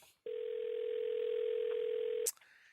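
A telephone dial tone sounds as one steady, loud, unbroken pitch for about two seconds, then cuts off abruptly with a brief click.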